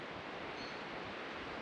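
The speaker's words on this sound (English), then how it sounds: "we're right next to this little creek" A small creek flows beside a campsite as a soft, steady rushing wash, faint and continuous with no other sounds.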